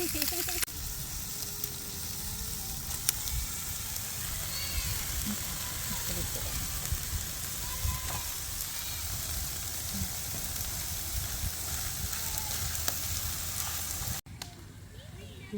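Food frying in hot oil during a fishing outing, a steady broadband sizzle running nearly throughout, with voices talking over it, then cutting off abruptly near the end.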